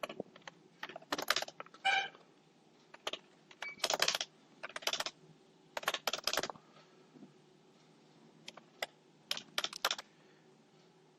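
Fingers type on a computer keyboard while entering figures into a spreadsheet, with close, crisp bursts of key clicks separated by short pauses.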